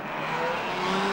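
1957 German Grand Prix racing cars, including Ferraris and Maseratis, roar off the starting grid together in a dense, loud, sustained engine blare with rising tones.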